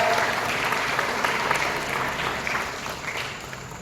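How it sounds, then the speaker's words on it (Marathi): An audience at a Mauli Foundation Ashadhi Vari gathering in Mumbai claps in a steady, dense burst of applause that slowly fades over a few seconds. "जोरदार रवीसाठी टाळ्या."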